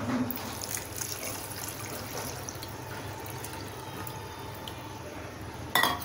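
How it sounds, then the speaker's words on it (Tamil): Tamarind water pours and trickles steadily into a vessel at close range, a soft continuous splash that lasts several seconds, with a brief clatter at the end. "இப்போ இதில் வந்து நம்ம கலக்கி வச்சுருக்கிற புளி தண்ணி ஊற்றிடலாம்."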